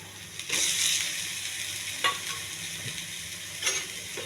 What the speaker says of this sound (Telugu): వేసి కొంచెం మసాలా పట్టేంతవరకు వేయించాలి